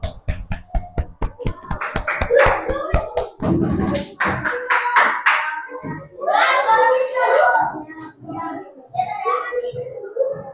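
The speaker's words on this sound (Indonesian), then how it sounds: "Tepuk tangan untuk kelompok kinestetik." Children in a classroom clap for a presenting group, sharp rhythmic hand claps at first, then a voice and chatter take over.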